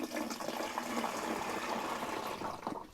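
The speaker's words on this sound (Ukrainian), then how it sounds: "І виливаємо в оприскувач." Liquid pours steadily into a garden sprayer for a tomato treatment, a continuous close splashing gush with no talk over it.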